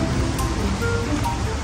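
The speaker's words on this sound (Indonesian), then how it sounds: "Ada sungai." River water flowing beneath a road bridge in Palau Tordera, Spain, a steady broadband rush that stays constant and fairly loud throughout the short stretch, with no voices.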